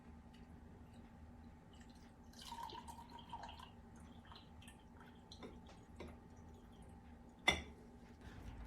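Water drains off freshly rinsed rice, a faint trickle with scattered drips and one sharp splash near the end, quiet and close with no talking.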